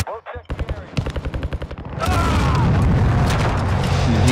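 Gunfire in the video game Call of Duty Modern Warfare, loud, close shots at first, then a rapid burst of repeated cracks running into a dense, sustained roar of firing and explosions.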